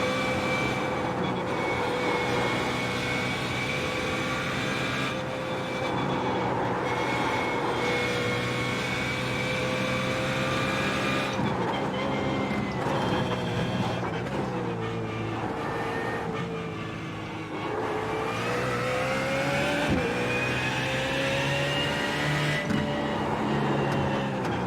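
A race car engine at Bathurst during a testing session drones loudly and steadily from inside the car, its pitch rising and dipping slightly as the throttle eases and picks up again.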